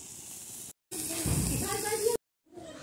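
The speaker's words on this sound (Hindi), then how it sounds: "सब्जी तैयार रखी है अब छौंक दें फटाफट।" Vegetables hit hot spices on a wood-fired village stove for tempering, bursting into a loud steady sizzle that hisses on for over a second between brief silent cuts.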